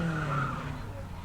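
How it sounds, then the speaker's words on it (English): Tyres squealing as a car spins in reverse during a 1983 motorsport run, a loud continuous skid with engine noise under it. "He'll come out of there into a reverse spin."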